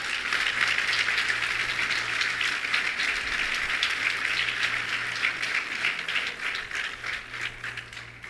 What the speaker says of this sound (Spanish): ¿Cuánto le dan un fuerte aplauso al Rey, por favor?